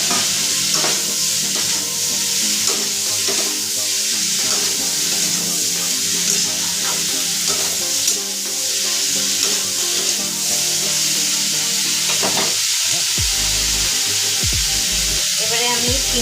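Chopped beans fry and sizzle in a pan as they are stirred into a chicken stew, with continuous loud frying hiss and repeated scraping strokes of the spoon, and a few clattering knocks near the end.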